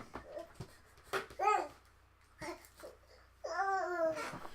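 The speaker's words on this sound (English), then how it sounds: "You can hear my son in the background here" A young child babbles in short, lively bursts of vocal sounds with pauses between them, heard at moderate level indoors.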